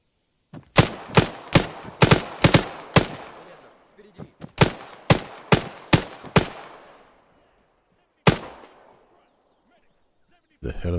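Sharp, close gunshots in Arma 3 in a quick burst of about a dozen, then a pause, a single late shot and another starting at the end. Sparse talk comes in around the shots.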